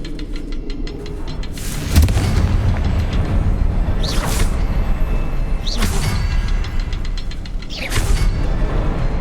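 A Confringo blasting spell explodes in the video game Hogwarts Legacy, with several loud, booming bursts at intervals over a continuous rumbling game soundscape.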